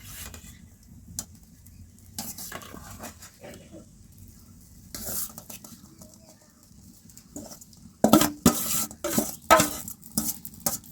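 Carrots are stirred into thickened, simmering milk for carrot halwa, with a quiet low bubbling and occasional spoon scrapes against the pot, then a run of louder clattering stirs near the end.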